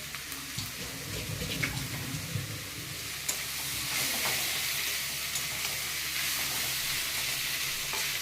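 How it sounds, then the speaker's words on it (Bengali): Boiled potatoes stirred in a frying pan while making a paneer roll: a continuous close sizzle with scraping, clattering stirring strokes, louder and busier in the first few seconds, then settling into steady frying. "আলু সেদ্ধটা দিয়ে সেখানে নাড়ি"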